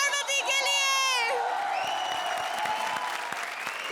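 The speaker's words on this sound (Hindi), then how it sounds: "Once more, जोरदार तालियां कपिल और पार्वती के लिए।" A studio audience at a comedy stage show claps and cheers loudly and steadily, following a sung note, with a few whoops in the mix.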